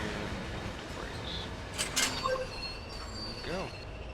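A train in the Train Sim World game brakes while creeping along at about two miles an hour, with faint squeals of wheels and brakes and a few brief tonal whines over a quiet rumble.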